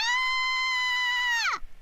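A woman's sustained high scream as Saber in the Fate/Hollow Ataraxia visual novel, held steady and loud for about a second and a half before sliding sharply down and cutting off.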